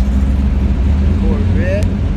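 A muscle car engine rumbles steadily and close at a supercar gathering, a deep continuous drone that lasts throughout, while people chatter around it.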